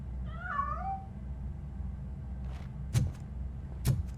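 A cat in the video game Robocop Rogue City meows once in a short rising-falling call near the start. Two soft thumps follow later over a steady low ambient hum.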